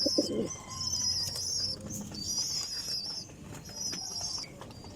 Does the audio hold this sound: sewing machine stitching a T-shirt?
no